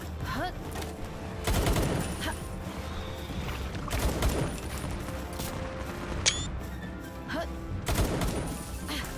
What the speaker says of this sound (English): That green explosion was absolutely blinding.